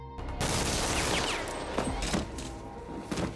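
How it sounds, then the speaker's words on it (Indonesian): A burst of gunfire from an action film, loud and dense, rapid shots layered over a booming background for several seconds. "datanglah Jerman yang langsung menembak Ibro"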